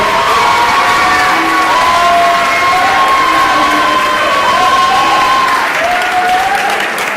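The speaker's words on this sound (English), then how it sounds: "Can I get one more round of applause for Corey Dooley," A banquet audience at a college athletics awards night gives a loud, sustained round of applause with cheering and whoops for a returning alumnus speaker, a dense unbroken wash of clapping that carries steadily from start to finish.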